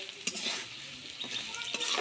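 Mango stir-fried with spices in a pan, with close scraping strokes of a spoon and a few sharp clinks against the metal over a soft, continuous sizzle.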